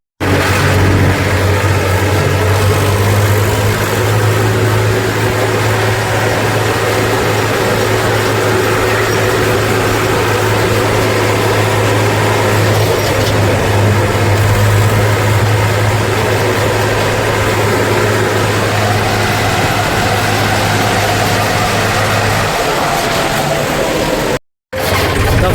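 Tractor engine running steadily for the whole stretch, a loud, low droning hum with constant mechanical rumble, cutting out briefly near the end before resuming.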